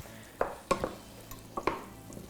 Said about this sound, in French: Puis je vais mélanger le tout